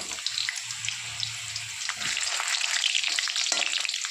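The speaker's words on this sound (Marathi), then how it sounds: "आपले बटाटे फ्राय होईपर्यंत" Potatoes frying in a pan for fasting-style dum aloo, a continuous close hiss and crackle with a low hum underneath, no talking.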